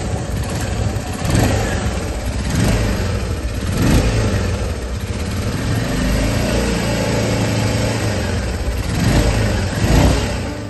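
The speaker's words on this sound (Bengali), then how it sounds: "কাপড় নিয়ে এসে তোমার সাইলেন্সারের মুখ চেপে ধরলেই, হালকা করে এক্সেলেটার দিলেই আপনাদের ট্যাপিড নয়েজ দূর হয়ে যাবে।" A motorcycle engine revving lightly while its silencer outlet is held shut with a cloth, a loud, continuous muffled rumble that swells and eases in slow waves over several seconds.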